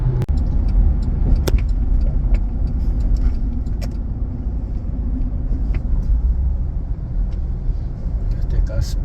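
A car drives through central Los Angeles with a steady, loud road rumble and engine drone throughout, and occasional small rattles and clicks inside the cabin.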